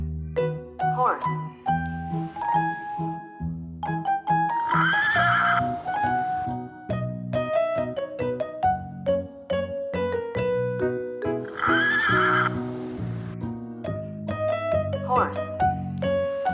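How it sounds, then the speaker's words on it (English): Horse from a farm-animal toy or recording, whinnying several times with clear, bright neighs spaced across the stretch, set against continuous bouncy musical accompaniment. "Horse."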